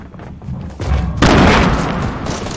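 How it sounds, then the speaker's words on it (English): A grenade going off in Fortnite: a loud, close blast of roaring noise that follows a few muffled thumps and trails off over about a second. "That is a grenade."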